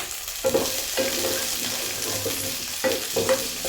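Onions and green chillies frying in a pan, a steady close sizzle with a few louder bursts of spattering as they are stirred.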